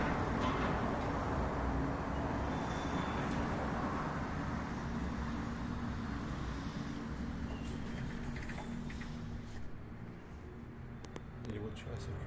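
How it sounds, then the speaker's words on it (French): Cars passing on a street below, heard through an open window as a steady low roadway rumble under a person talking throughout. "et les voitures elles circulent en bas."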